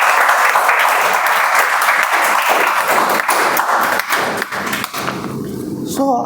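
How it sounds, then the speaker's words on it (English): Dense, loud applause from a Toastmasters meeting audience greets an icebreaker speech. The clapping runs steadily for about five seconds, then thins as a voice starts at the end. "Everyone, please give him a huge round of applause."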